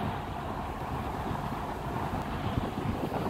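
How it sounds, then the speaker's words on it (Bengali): Passenger launch travelling on a river from Bahadurabad BIWTA terminal toward Fulchhari, Gaibandha, its steady engine drone and broadband water rush heard continuously alongside wind buffeting the microphone, with no speech. "আমরা একটি লঞ্চ করে এই বাহাদুরাবাদ BIWTA সেন্টার থেকে আমরা যাত্রা শুরু করছি ফুলছড়ি গাইবান্ধার উদ্দেশ্যে"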